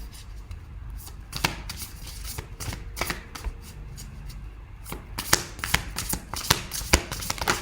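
Shaman oracle card deck being shuffled by hand, close riffling and flicking of cards in quick irregular bursts, growing busier toward the end, no speech.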